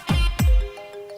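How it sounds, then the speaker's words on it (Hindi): Two sharp thumps open the clip, then a steady electronic ringtone tone begins, repeating twice at moderate volume with nobody speaking. "बेटा, वो अजय के पापा का फोन है।"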